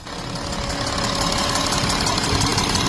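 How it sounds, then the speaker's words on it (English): An Audi Q7 engine with a leaking injector seal runs close by, giving a steady, loud, rapid chuffing and knocking pulse over a dense mechanical roar, with no talk. "I can hear a chuffing coming from underneath the engine"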